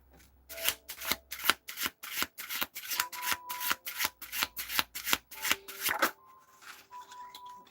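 A deck of tarot cards is shuffled again and again in quick riffling bursts, close and crisp with a steady rhythm, then settles into softer handling at the end. No one speaks.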